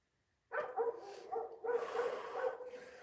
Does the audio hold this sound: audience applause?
no